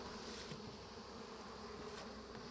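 Honeybees buzz at a hive fitted with hive beetle traps, a soft continuous drone of many wings rising and falling faintly and evenly.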